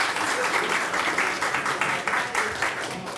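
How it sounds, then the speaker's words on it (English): An audience at a community presentation and panel claps together in a dense, steady wash of applause that holds for several seconds, with some voices faintly mixed in. "So we give them a round of applause."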